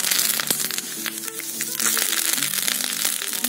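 Mustard and cumin seeds crackle and sizzle in hot oil for a tempering for Andhra-style horse gram rasam, a dense, continuous frying hiss dotted with sharp little pops, close and steady throughout.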